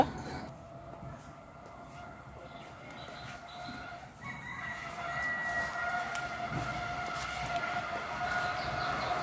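Chickens and a rooster at a home in a village yard: faint, steady crowing and clucking carry over quiet background noise, with no voices.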